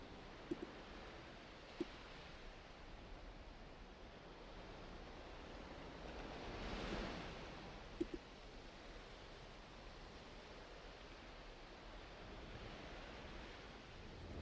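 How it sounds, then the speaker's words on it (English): Ocean waves in a video game wash in a soft, even hiss of surf, swelling gently midway, quiet and distant with a few faint clicks and no talk. "Sounds of the ocean are relaxing though, so that's nice."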